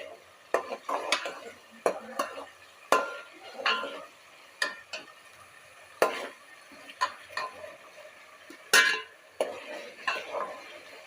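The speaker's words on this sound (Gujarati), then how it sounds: "મરચાંની જે પેસ્ટ હતી કરેલી એ આપણે એડ કરી દઈ અને થોડુંક સાતડવા દઈએ" Onion with ginger, garlic and chili paste sautéed for pav bhaji, heard as repeated spoon scrapes and taps against the pan over a low, faint sizzle, with no talking.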